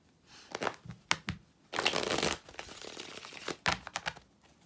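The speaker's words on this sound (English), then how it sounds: "I swear this deck do not want to shuffle for me in this moment." Tarot cards being shuffled close by in uneven bursts: scattered flicks and taps around two long, papery riffles, with no talking.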